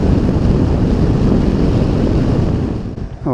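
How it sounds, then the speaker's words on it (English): Wind buffeting on a Honda CB500X motorcycle being ridden, a loud, constant low roar of rushing air with a steady engine drone underneath, easing slightly at the end. "I'm getting a little bit more wind to my top of my chest and my shoulders."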